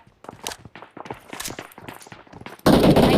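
Rapid bursts of gunfire from a PUBG Mobile match, scattered shots and quick volleys through the first seconds, then a sudden loud, sustained barrage at the end, with no talking.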